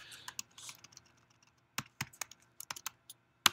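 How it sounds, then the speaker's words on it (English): Typing on a computer keyboard during a talk on a programming environment: quiet, uneven bursts of key clicks with short pauses between, close by, with no one speaking. "I'm not typing very well."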